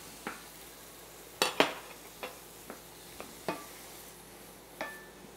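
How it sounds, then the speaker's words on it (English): Yellow onion sautéing in a pan makes a faint, quiet sizzle, broken by a few sharp clicks and scrapes of a utensil against the pan at irregular intervals. "we're going to add in our yellow onion and just saute that for probably 3 to 5 minutes"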